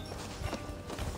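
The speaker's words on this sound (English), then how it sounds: "There is a horse." Horse hooves clopping in Assassin's Creed Valhalla, a few soft, uneven thuds over a steady game ambience, fairly close and moderately loud.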